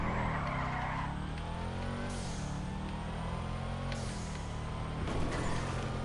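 A GTA 5 FMJ supercar races toward the pier, its engine droning steadily at high revs with tire squeals and skids, loud and close throughout.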